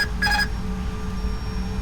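Autopilot disconnect tone in a JARDesign A320 in X-Plane 10, a single short bright electronic chime near the start over a low steady cockpit hum.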